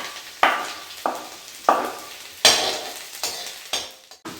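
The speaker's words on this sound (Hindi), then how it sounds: "अब मैंने कढ़ाई चढ़ा दी है। अब मैं सारे वेजिस को फ्राई करूँगी" Garlic and vegetables frying in a hot kadai, with loud, close spatula scrapes repeating about every half second over a bright, crackling sizzle.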